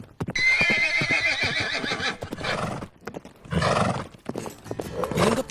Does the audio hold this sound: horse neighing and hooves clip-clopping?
yes